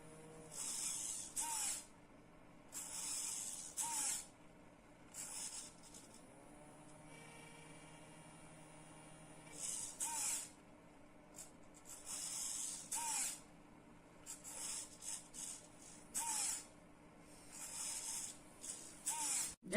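On a school robotics project, a small electric fan runs in repeated short bursts of airy hiss, switching on and off every couple of seconds, close and fairly quiet, with no talking.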